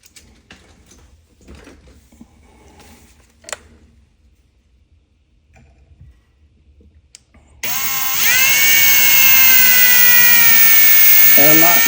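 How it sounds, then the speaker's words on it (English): An electric drill bores pilot holes for the screws of a guitar pickup ring, the loud steady whine starting abruptly after softer handling noises and quiet talk, then running continuously to the end. "I'm not necessarily drilling the depth of the screw."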